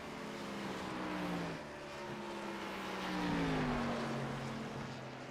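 Race car engine drone in a sim racing video game at Richmond, a steady mid-volume hum with gently shifting pitch as the car rolls along, no voices.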